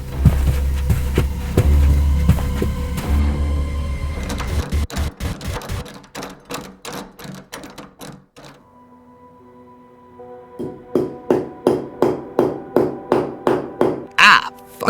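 Rapid, regular hammer blows sound in quick series, pausing and then resuming in a steady run of sharp knocks.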